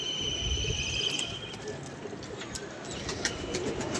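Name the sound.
pigeons cooing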